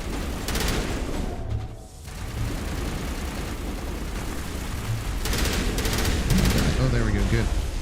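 Gunfire rings out through a Mass Effect firefight on Insanity difficulty, with repeated weapon bursts and explosive booms packed tightly over dense game noise and staying loud for the whole stretch.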